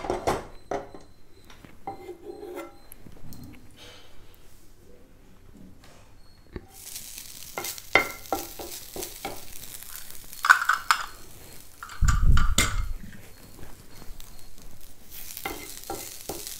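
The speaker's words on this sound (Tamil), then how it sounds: "இப்போ இந்த கொஞ்சம் நெய் இருக்கு இல்லையா, இதுலேயே தேங்காய் துருவலை நல்ல சவக்க வறுத்துக்கலாம்" Grated coconut roasts in a little ghee in a pan, starting quiet with soft scrapes, then breaking into a brighter sizzle with intermittent stirring and clinks of a spoon against the pan.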